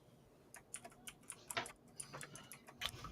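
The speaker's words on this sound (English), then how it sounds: "whoever's got the awesome mechanical fucking keyboard, I love hearing that clackety clack clack clack" A mechanical keyboard clacks in quick, uneven bursts of crisp keystrokes, fairly close and alone, with no one talking.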